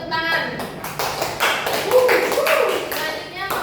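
Classroom of primary school children clapping for a group presentation, a dense patter of many hands filling the room continuously, with voices chattering over it.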